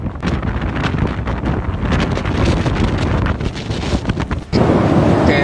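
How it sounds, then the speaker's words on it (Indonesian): Strong typhoon Koinu wind and rain lashing Shanghai's Bund waterfront, a loud continuous roar of gusts buffeting the microphone with hissing rain throughout, surging even harder near the end. "Angin dan hujan sangat kencang sehingga lalu lintas di Bund Promenade dibatasi"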